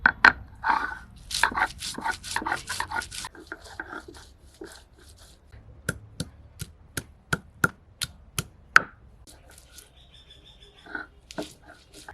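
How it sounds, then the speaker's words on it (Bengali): Ginger, garlic and onion pounded together for a mutton curry, a run of sharp, evenly spaced thuds, close and fairly loud, with a dog barking and whimpering nearby. "আদাগুলো একটু ভালো করে থেতো করে নিলাম"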